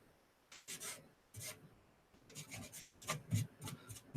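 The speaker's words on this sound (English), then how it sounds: "I can work this putty in here with the brush." Soft, scattered scratchy strokes of a brush working putty into wood during finishing, irregular bursts close up and quiet with pauses between.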